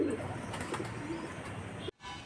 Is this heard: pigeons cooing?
yes